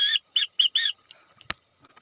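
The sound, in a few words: Morse code letter whistled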